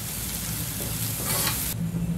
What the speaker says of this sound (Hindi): मसालों को मैं अच्छे से भून लूँगी अब सूखे मसाले भी मैं ऐड कर दूँगी और इसको भी मैं अच्छे से मसालों में मिला लूँगी